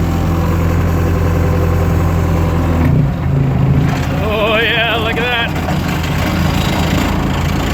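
A roller compactor's engine idles steadily throughout, a constant low rumble with a brief revving swell midway as the machine starts to shake, while someone speaks over it.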